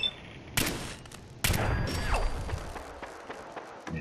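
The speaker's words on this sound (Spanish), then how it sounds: "No sé, estaban viniendo unos disparos láser por ahí." Laser gunfire in the video game Fallout 4's Nuka-World: two sharp, loud blasts about a second apart, the second followed by a falling electronic whine, then scattered fainter shots trailing off in the distance.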